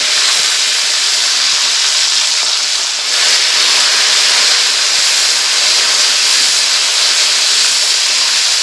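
Capsicum dropped into a hot pan with bay leaf and cumin, giving a steady, loud broadband sizzle that runs unbroken throughout, swelling slightly partway through, with no talking.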